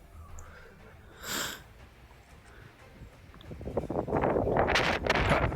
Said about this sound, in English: It's a bit windy up there.